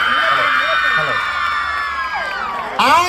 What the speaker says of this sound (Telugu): గట్టిగా చప్పట్లతో ఆ పెన్షనర్ని ఆహ్వానిస్తున్నా.